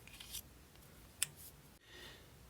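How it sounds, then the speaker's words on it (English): Scissors cutting paper for a collage: a few quiet, crisp snips, with one sharp louder snip in the middle, set close in a calm room. "So cutting for me is mainly rotating the paper and keeping the scissors in one spot."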